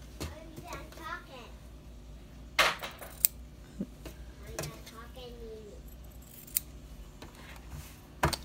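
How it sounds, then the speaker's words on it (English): Scissors snip the leftover fabric at the corners of a reversible dog bandanna, giving a few sharp, close cuts scattered among faint handling clicks and brief bits of talk. "is to snip off the little extra bits"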